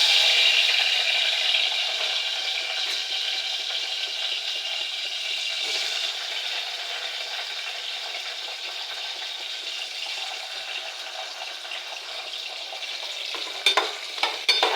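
Chopped tomatoes sizzle steadily as they are stirred into frying khichdi in a pan, a close, even hiss with a few spoon clatters near the end and no talking.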